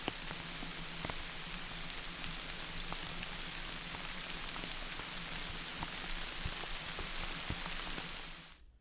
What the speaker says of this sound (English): So that's the rain past, I think.